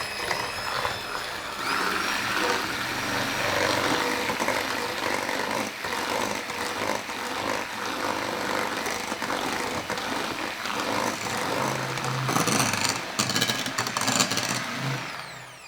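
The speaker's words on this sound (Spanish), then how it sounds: "Este va a ser el primer paso, batir los huevos con el azúcar." Eggs and sugar beaten together for a sponge cake, a steady whirring mixer drone running continuously and fairly loud throughout, with slight shifts in pitch and no talk.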